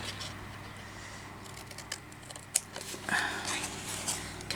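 Scissors cut through envelope paper for a junk journal in several short snips and crisp rustling bursts, close and fairly quiet, with one sharper snap in the middle.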